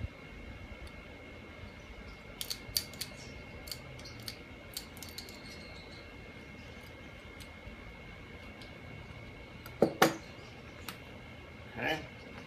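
Scissors snip through drip irrigation tubing in a few sharp, faint clicks spread out over quiet room tone, with a couple of louder handling knocks near the end.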